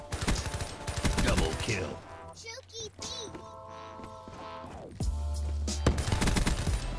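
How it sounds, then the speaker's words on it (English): Suppressed shots from a silenced Galil rifle in a Call of Duty match come in quick bursts amid other game effects, with a voice speaking briefly over the action. "We got the silenced Galil"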